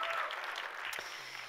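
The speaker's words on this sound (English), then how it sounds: "I think we should give him a round of applause" Applause from the audience at a New York benefit gala for an arts foundation, a soft, fairly distant spread of clapping in a large room that gradually thins out.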